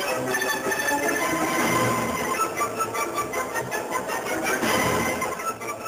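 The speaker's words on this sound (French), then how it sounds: "scandé par le bruit des pas et des trains" Rhythmic mechanical clatter of trains at a Paris station, with footsteps, repeating clicks and a steady rumbling drone, fairly close and continuous.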